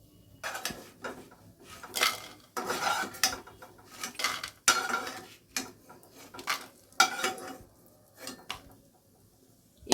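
Fried lentil dumplings scooped from hot oil into a pot, irregular clinks and scrapes of a metal spoon against cookware, with faint sizzling between the knocks.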